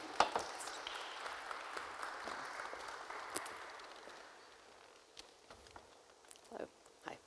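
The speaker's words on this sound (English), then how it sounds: "And give them a round of applause," Scattered applause from a conference audience at Digital Europe 2024, softening and thinning out over several seconds into a few isolated claps and faint rustling.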